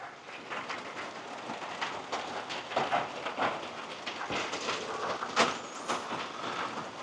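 Steady rain falls outdoors, a dense, even hiss with scattered louder patters, continuous throughout and without talk.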